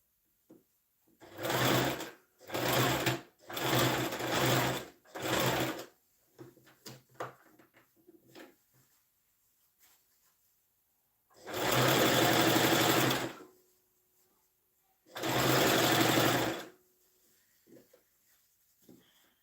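A sewing machine stitching a boy's native shirt runs in short bursts, four quick runs and then two longer ones, with quiet pauses between them filled by small handling clicks.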